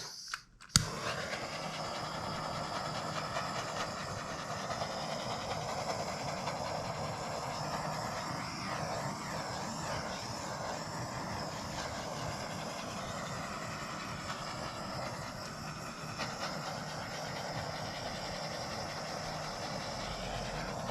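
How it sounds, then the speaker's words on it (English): A handheld torch hissing steadily as it heats poured acrylic paint, a constant close roaring rush that starts with a sharp click and runs unbroken throughout. "I'm going to take a pause and torch it a little bit and see if anything pops out"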